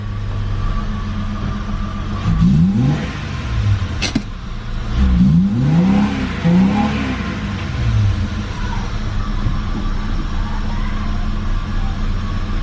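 A Holden Commodore engine runs steadily with a slight misfire, a constant loud drone with a couple of rising and falling revs partway through.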